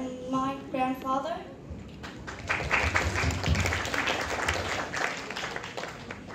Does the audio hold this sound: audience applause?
yes